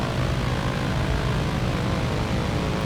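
A propeller aircraft engine droning steadily while landing on a runway in a video game, loud and continuous with no talk.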